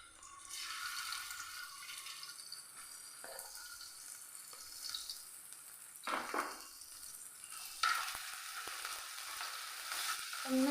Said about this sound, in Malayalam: ഇനി ഞാനിതാ ഒരു പാൻ വെച്ച് കൊടുത്തിട്ടുണ്ട്. പാൻ നല്ലപോലെ ചൂടായി. ഇതിലേക്ക് നമ്മൾ ചതുക്കിയെടുത്ത ഇഞ്ചി,